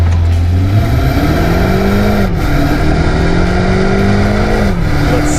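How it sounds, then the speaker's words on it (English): A 2021 BMW 228i xDrive holds a steady, loud held rev at launch with brake and throttle both pressed as boost builds, the engine drone rising slightly and wavering with no talk. "foot on brake, foot on gas, build up a little boost."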